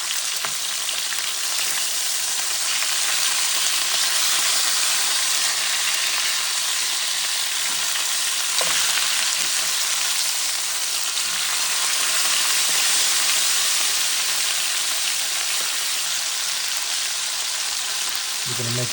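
Flipped T-bone steaks searing in a hot pan, a loud continuous sizzle and crackle of fat lasting throughout, with a brief scrape or shift partway through and no talking.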